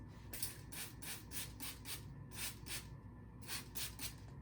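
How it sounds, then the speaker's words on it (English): A spray bottle mists wavy hair in quick repeated bursts, about a dozen short hissing pumps in a steady rhythm, close and fairly soft. "So I'm just gonna spray this"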